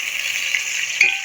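Finely chopped medium onions frying in a pan toward golden, a steady soft hiss with a brief metallic clink near the end, no voices.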